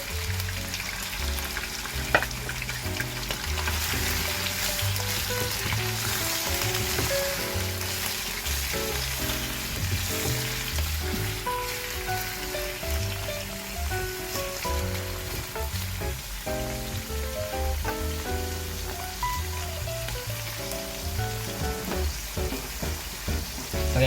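Pork intestines fry in a pan for Filipino adobo, giving a loud, continuous crackling sizzle with occasional stirring clatter that runs steadily throughout.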